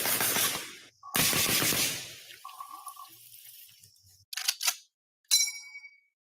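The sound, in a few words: semi-auto rifle with red dot sight firing in video game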